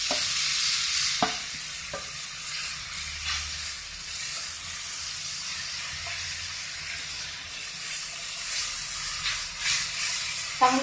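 Roasted eggplant for Khandeshi bharit sizzles and hisses as it is stirred and sautéed in a pan, a continuous close frying sound punctuated by occasional spoon scrapes and knocks.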